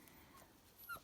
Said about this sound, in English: Right now I'm outside with my puppies